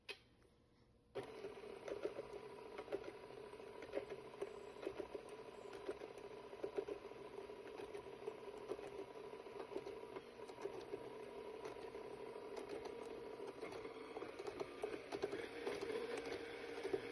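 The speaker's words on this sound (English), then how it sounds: "I'm going to mix this until it's fully combined." An electric mixer whirs steadily as matzah cake meal is beaten into batter in a bowl for an apple cake, starting abruptly after a brief quiet and running at an even, close hum with faint rattling.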